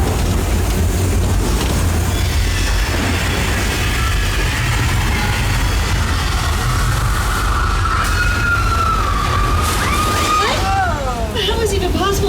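Train effect staged inside a soundstage on the Universal Studios tour: a loud, continuous rumble with rising metallic squeals toward the end, under people talking.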